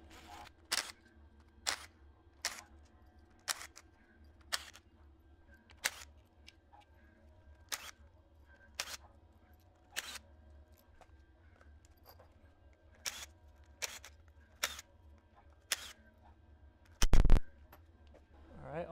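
Ten-millimetre bolts being removed from the timing chain cover of a BMW M54 engine, a steady series of sharp metallic ratchet clicks spaced about a second apart, close and clear over a quiet background with one louder clatter near the end.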